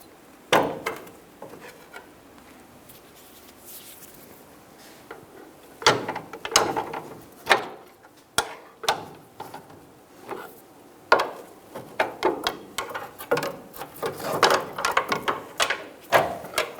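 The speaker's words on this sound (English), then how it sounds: "Remove the bolt." Bolt being removed from a rearward upper control arm on a 2007-2017 Ford Expedition, heard as scattered metallic ratcheting clicks and knocks, sparse at first then busier and louder toward the end, with no talking.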